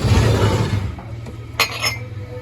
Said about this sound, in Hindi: मैं बर्तन रखता हूँ